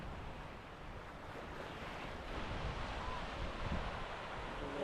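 Surf washing in on the shallow, sandy shore of Platja de Muro in Mallorca, a steady broadband roar of breaking waves with wind rumble on the microphone, swelling slightly toward the end, no voices.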